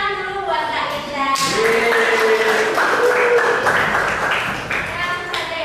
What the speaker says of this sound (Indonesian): tepuk tangan dulu buat Kak Indra